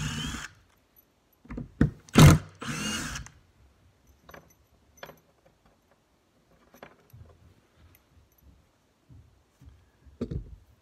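A Milwaukee Fuel brushless power tool gives a few short, loud bursts close by, followed by quiet clicks and handling knocks, with no speech.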